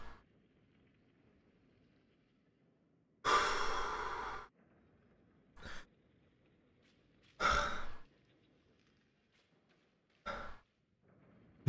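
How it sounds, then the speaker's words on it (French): Heavy out-of-breath breathing after a tense boss fight: four separate loud exhales or sighs at uneven gaps, close to the mic, with near silence between them. "Je suis complètement essoufflé."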